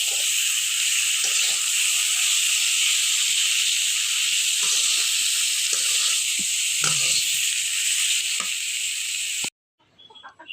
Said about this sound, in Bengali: একটু অল্প পরিমাণে হলুদ আর লবণ দিয়ে ভালো করে ভেজে নেব।